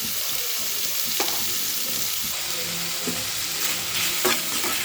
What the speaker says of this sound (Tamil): இப்போ வந்து நல்லா எண்ணெயிலே வதங்கட்டும் கோவக்காய்